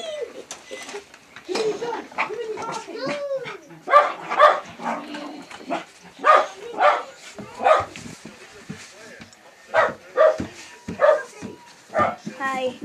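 Several dogs at a house barking and yipping excitedly, close and loud in repeated bursts, with people talking and greeting over them.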